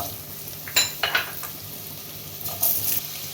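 Potato pieces frying in hot oil with whole dried chillies, a bay leaf and turmeric, a soft sizzle broken by a few short bursts of stirring and utensil scrapes against the pan.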